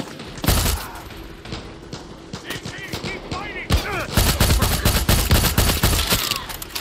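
Bursts of gunfire from a weapon in Far Cry 6, loud and near, with rapid shots and sharp cracks layered over chaotic action noise and brief voices.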